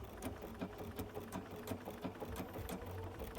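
A Bernina 770QE sewing machine stitches applique with a decorative edging stitch, running steadily with rapid rhythmic needle pulses and a low motor hum, close and continuous with no talking.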